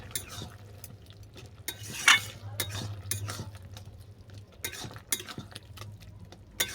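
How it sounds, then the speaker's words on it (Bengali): A spoon stirs puti fish and lentil curry in a pan, soft scraping and clinks against the metal over a low steady simmer, with a few sharper knocks, close and fairly quiet. "এরপর দেবো জিরে গুঁড়ো দিয়ে আমি অল্প করে নেড়ে চেড়ে এটাকে নামিয়ে নেব"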